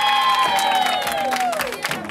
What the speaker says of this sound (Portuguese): Pode bater palmas, pessoal.